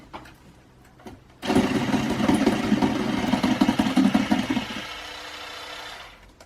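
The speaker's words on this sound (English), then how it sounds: "And now I'm going to whisk this lot together until it is nice and smooth" Cake batter with vanilla extract whisked until smooth, likely with an electric mixer, for a gluten-, lactose- and yeast-free cinnamon swirl tray cake: a steady loud motor whir running about three and a half seconds, then easing off to a faint hum.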